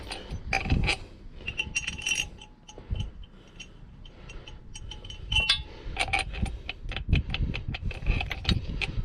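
A metal bolt fitted into an upper control arm on a 2005 Mazda Bravo / Ford Courier V6 ute, with scattered close clinks, taps and metallic rattles in uneven bursts.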